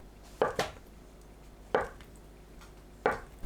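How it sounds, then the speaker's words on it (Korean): A knife chops tofu into bite-size pieces on a cutting board for kimchi stew with perilla leaves: three sharp, close-up board knocks, the first a quick double strike, spaced about a second apart against a quiet background. "두부를 한 입 크기로 썰어줍니다."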